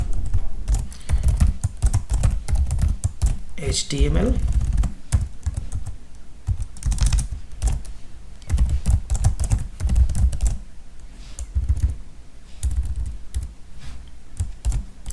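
HTML code is typed on a computer keyboard in quick bursts of clicking keystrokes with short pauses, close and steady throughout.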